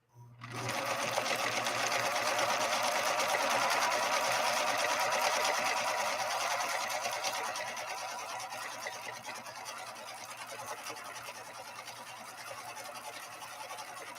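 A Husqvarna Viking 3230 sewing machine runs continuously through tricky upholstery fabric of recycled nylon, polyester and acrylic, a steady close whirring hum that starts abruptly and softens slightly partway through.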